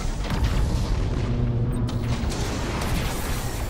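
An enemy escort starship blows up in Battlefleet Gothic: Armada, a low rumbling boom that rolls on steadily for a few seconds at moderate loudness with no talk.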